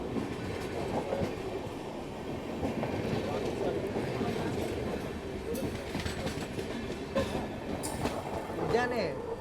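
An Udyan Express train rumbles past on the Karnataka route near Kallur Junction, steady clattering wheel noise with a squeal toward the end, heard from aboard a moving train while people talk.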